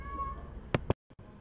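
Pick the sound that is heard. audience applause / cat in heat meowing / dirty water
cat in heat meowing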